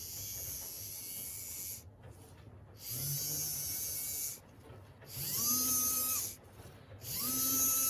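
A small electric motor drives a Roundhouse 0-6-0T model locomotive chassis powered by clip leads, a faint steady whine and buzz that cuts out and restarts several times, with a gear-like rising tone at each restart.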